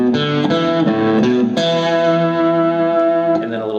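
Distorted rock electric guitar playing a short lick of open A then fretted B, ending on a sustained E with vibrato, loud and close with effects and reverb, no talking.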